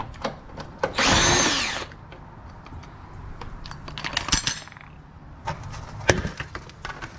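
A power tool drives a 10 mm socket on a long extension to remove a cover bolt on a Lexus GS400, with one loud whirring burst followed by metallic clinks and rattles of tools and parts.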